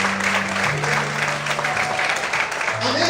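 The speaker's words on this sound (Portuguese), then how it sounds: "Aplaude o Senhor de Deus." A church congregation claps in praise, with continuous applause heard close and full under shifting sustained musical notes.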